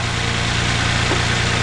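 A 2024 Toyota Tundra engine filled with 5W-30 oil idles on a cold start, giving a steady, loud, close-up rumble with an even low hum and no other sounds.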